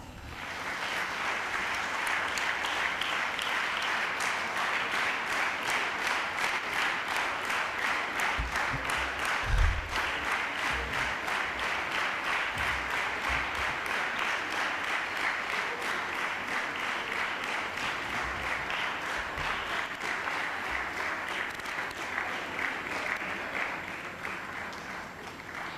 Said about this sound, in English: Let us welcome Ms. Tenzin Pelmula with a big round of applause.